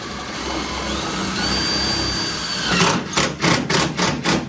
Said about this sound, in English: we're throwing a screw in this cab corner, hold it in place